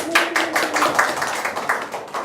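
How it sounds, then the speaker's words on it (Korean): An audience at an education forum claps in a loose, rhythmic patter, close and moderately loud, with a brief voice audible at the start. "박수로 시작하겠습니다."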